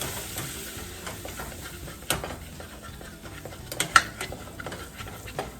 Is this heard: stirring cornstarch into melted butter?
yes